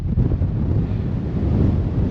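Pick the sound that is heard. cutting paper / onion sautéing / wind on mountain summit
wind on mountain summit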